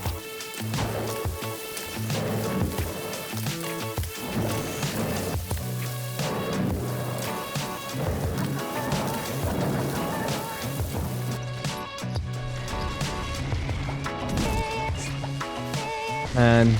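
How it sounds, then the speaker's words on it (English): Rain and thunder weather in the Lego Fortnite video game plays under dense, busy game music, with steady patter and occasional crashing hits running through the full stretch. "A bit annoyed that the weather has just been constantly raining and thundering."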